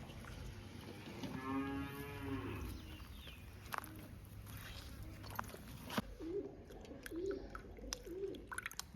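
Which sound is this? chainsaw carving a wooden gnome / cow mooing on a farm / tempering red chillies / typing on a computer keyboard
cow mooing on a farm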